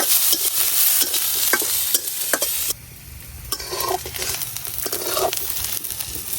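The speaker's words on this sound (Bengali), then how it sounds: "এখন দিয়ে দিতেছি পেঁয়াজ পেঁয়াজ আর রসুন গুলারেও ভালো করে বাজিয়ে নিয়াম" Onions and garlic fry in a pan for a fish-tail bharta, with steady close sizzling and repeated stirring scrapes and clinks, a brief quieter dip midway before the sizzle returns.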